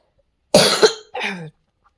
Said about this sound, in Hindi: वॉइस ओवर करते टाइम बहुत ज़्यादा खांसी हो रही थी मुझे